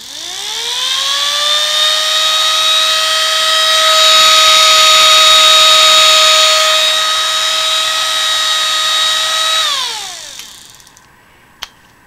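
A homemade siren spun by a cordless drill winds up into a loud, rising wail, holds a steady piercing multi-tone howl for several seconds, then winds down and falls away, followed by a faint click.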